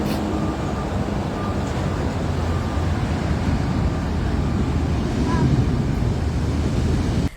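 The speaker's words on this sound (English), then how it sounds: "The massive waves overtook beaches and coastal roads." Large ocean waves of high surf, breaking at 28 to 33 feet, crash over beaches and coastal roads in California, a steady loud roar of surf and wind buffeting throughout with no clear individual breaks.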